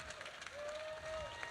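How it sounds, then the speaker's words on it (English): At an outdoor pro-gun rally in Ohio, a crowd gives a brief, quiet round of applause that sounds distant and soft, with a thin sustained tone running through its middle. "Give him a round of applause."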